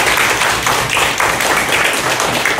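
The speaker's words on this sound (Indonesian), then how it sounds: "Kasih tepuk tangan." A classroom of students clapping for a classmate during an Indonesian teaching-practice lesson, loud and close, with a busy, continuous patter of many hands filling the whole stretch.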